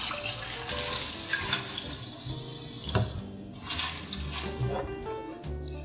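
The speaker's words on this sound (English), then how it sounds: "So now that our kale is washed," Kale is rinsed under a running kitchen tap, with water splashing and trickling steadily and a few louder gushes near the middle.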